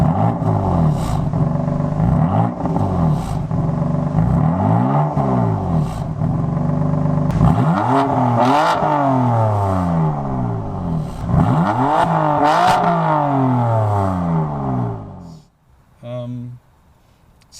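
A BMW M3 Competition F80 engine revs repeatedly, rising and falling in smooth sweeping pulls that are fairly close and steady, with a person speaking over parts of it.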